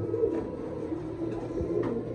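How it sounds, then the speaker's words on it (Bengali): A pigeon at a bird seller's stall coos in low, soft murmurs that repeat across the moment, close by, with faint background bustle and no talking. "এখানে দেখেন একটা কবুতর"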